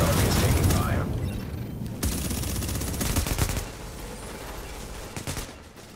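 Dense, loud bursts of automatic gunfire from The Division PvP last-stand match rattle almost without pause, thinning somewhat toward the end with a few scattered shots.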